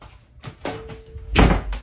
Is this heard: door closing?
yes